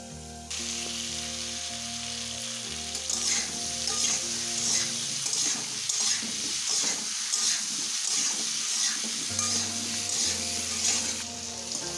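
Pumpkin and malabar spinach fry in a pan, a loud, continuous crackling sizzle with steamy hiss that rises after a quiet start and holds steady up close, with no talking.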